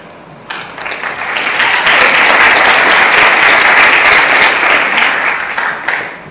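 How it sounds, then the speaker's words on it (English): Loud, full applause from a conference audience welcoming the speakers at a JavaScript developer conference, building quickly after a brief start and holding steady before tapering off, with a few voices in the crowd. "Let's give them a round of applause to welcome them."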